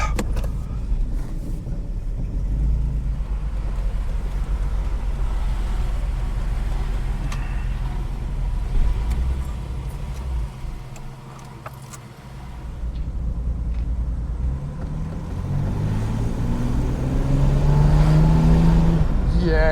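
An old vehicle climbing a big hill, its engine droning steadily and loud from inside, dipping briefly midway before the revs rise again with a climbing whine toward the end.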